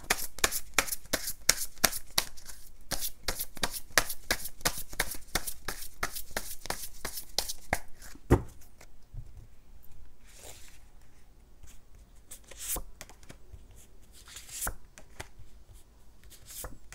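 Tarot cards are shuffled in a rapid, dense riffle for about eight seconds, then a few separate snaps and slides follow as single cards are drawn and laid down, close and crisp.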